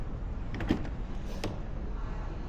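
Door of a Porsche Taycan Turbo in Volcano Grey opening, a soft mechanical click and latch release followed by a brief thunk, close and fairly quiet over a faint steady background.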